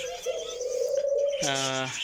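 An Australian dove in a home bird setup gives a drawn-out coo followed by a lower, rolling coo, close and clear, with a faint voice in the background.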